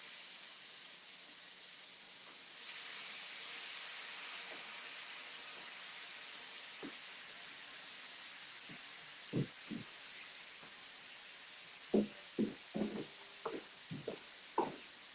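Chilean sea bass fillets sizzle in a hot pan, a steady hissy frying sound that runs throughout, with a few brief knocks and clatters of the pan near the end.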